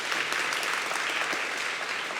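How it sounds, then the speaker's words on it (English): Audience applause for Van Jones at a live evening event, a dense, steady wash of many hands clapping at once, loud and continuous throughout with no pause. "round of applause for Van Jones"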